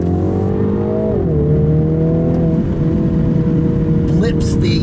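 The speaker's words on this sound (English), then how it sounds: "blips the accelerator and stuff like that when you shift in the sport mode" A 2021 MINI Countryman JCW in sport mode revs hard, its engine note rising and dropping with throttle blips through shifts, loud and close from inside the car; no words are spoken.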